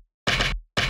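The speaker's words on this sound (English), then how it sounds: "I made a percussion sound using the hit off of the rail in the gameplay." Two short, punchy percussion hits built from a skateboard striking a rail in Skate 3, each a bright, full-range thwack separated by silence, close and clean.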